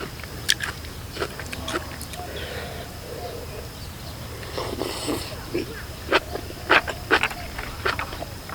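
Crunchy cabbage eaten alongside grilled beef out in a rice field gives faint, scattered crisp bites and chewing crunches, with someone speaking at times.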